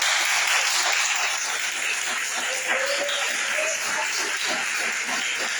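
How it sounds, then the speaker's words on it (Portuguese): Steady applause from a church congregation fills the space, dense and sustained clapping at moderate loudness with no pause. "uma salva de palmas para Jesus."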